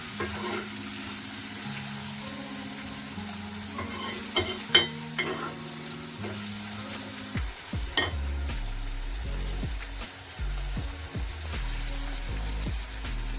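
Tomatoes sizzle in a hot pan while a utensil stirs and scrapes, with occasional clinks; a steady frying hiss and no talking.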